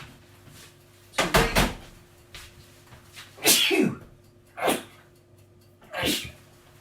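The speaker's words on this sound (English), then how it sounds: "Oh, I'm going to sneeze." A person sneezes sharply, followed by a few more short sneezes or sniffs spaced over several seconds in a quiet room.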